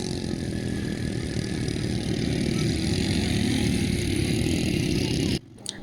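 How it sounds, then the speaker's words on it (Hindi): Quad bikes ride across desert sand on an Abu Dhabi desert safari, giving a continuous, rough engine drone that stops abruptly near the end. "वो साहिल और शयान जो बाइक राइड कर रहे हैं"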